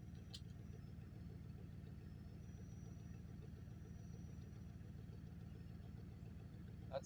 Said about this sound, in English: I had to leave my truck running. You might even hear it in the background.